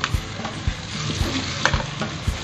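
Onions sizzle steadily in a hot pan, softening after about two minutes of frying, with a spatula scraping and stirring in a loose rhythm close by.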